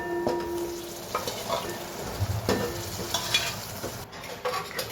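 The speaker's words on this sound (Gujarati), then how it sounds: "હવે આપણે બાકીની તુવેર પણ સાથે સાથે એડ કરી દઈએ" Pigeon peas stirred into frying masala in a pan, the spoon scraping and turning in a steady rhythm over a constant close sizzle, with a few soft knocks against the pan.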